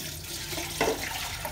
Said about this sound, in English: here we've already warmed up our water in a tea kettle, not in the microwave